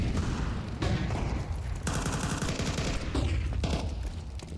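Mac-10 and pistol fire during a Counter-Strike match, heard as a steady loud wash of overlapping gunshots and rattling bursts that continues for the whole stretch without pause.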